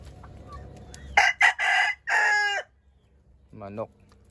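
A rooster crows loudly in several long, harmonic bursts, followed by a shorter crow or cackle; quiet farmyard background between calls.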